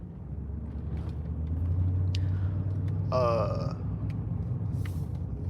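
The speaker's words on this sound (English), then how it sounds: "there's a loud truck driving behind me" A loud truck rumbles past close behind, a deep, steady low roar that swells and lingers, with a brief hiss like an air brake partway through.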